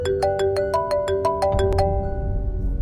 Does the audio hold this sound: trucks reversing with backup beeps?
no